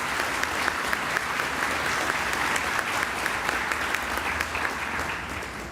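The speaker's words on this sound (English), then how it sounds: "Big applause, please." A large audience claps in sustained, dense applause at a graduation ceremony in Szczecin, steady and full throughout with no voices over it.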